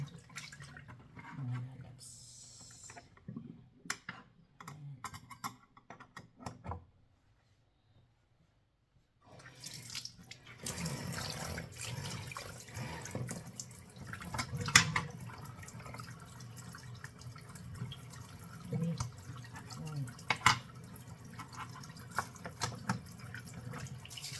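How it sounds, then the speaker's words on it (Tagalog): Harvested produce is rinsed under running water to wash away soil and sand, with splashing and dripping that pauses into near silence midway, then resumes steadily. "hugasan natin ito hanggang matanggal talaga yung lupa at buhangin."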